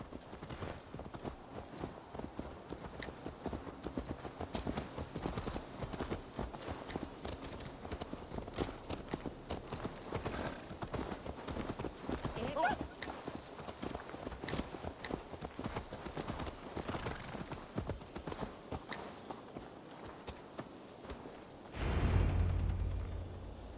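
Horse hooves clip-clopping in the Assassin's Creed Valhalla video game, a steady, close trotting patter that runs nearly the whole time before giving way to a short, louder rumble at the end.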